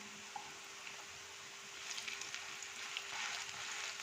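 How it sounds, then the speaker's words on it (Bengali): Spinach fritters fry in a pan with a soft, steady sizzle of hot oil, quiet and close, with no talking. "এই দেখুন, এক পিঠটা ভাজা হচ্ছে"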